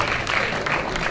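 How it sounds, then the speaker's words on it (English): An audience at a junior entrepreneurship forum gives a brief, steady round of applause, a short wash of clapping without any voices. "I would like to invite the audience to give them a warm round of applause"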